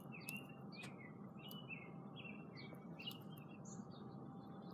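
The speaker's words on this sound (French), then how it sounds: "Ça, c'est un beau fond, les oiseaux." Small birds chirp outdoors in short, repeated high tweets, fairly distant over a steady low background rumble, with no talking.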